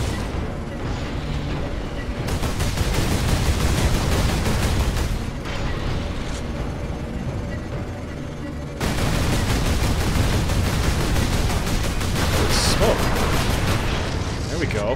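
Heavy sustained gunfire in the Space Marine video game, a dense continuous barrage of rapid shots pounding loudly with only brief pauses.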